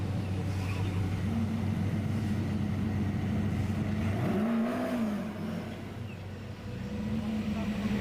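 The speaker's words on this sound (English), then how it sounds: "Damir Idiatulin warming tyres on that Fresh X Racing Nissan 400Z" Fresh X Racing Nissan 400Z drift car warming its tyres at a drift championship round on the Yas Marina F1 track, a continuous loud engine drone with a rising rev swell midway, heard from some distance amid crowd and circuit ambience.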